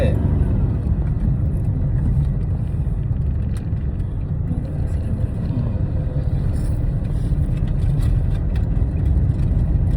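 A car engine pulls steadily in second gear during a driving lesson, a constant low drone and road rumble from inside the cabin with little change in pitch.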